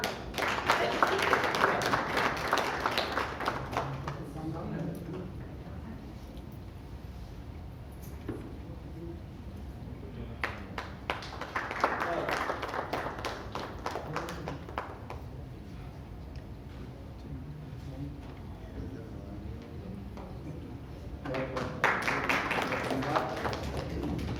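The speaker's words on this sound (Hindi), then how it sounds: "जोरदार तालियां।" An audience at a Jain poets' gathering in Raipur breaks into bursts of clapping during a welcome ceremony on stage, swelling and fading several times around stretches of speech.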